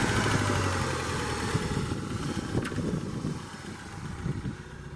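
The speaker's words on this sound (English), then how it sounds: "You can tell that's crank rattle down there because we lose our oil pressure at idle." A 1989 Ford Mustang, started for the first time in eight years, idles steadily with a crank rattle from low in the engine and low oil pressure, a continuous close mechanical drone with no talking.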